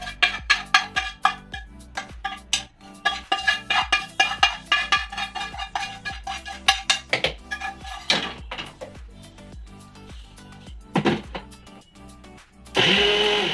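A kitchen mixer grinder chops fried vegetables in short rhythmic pulses, each burst a sharp whirring clatter. The pulses slow and spread out, then the motor runs continuously at the end.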